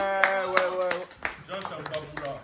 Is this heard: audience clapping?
yes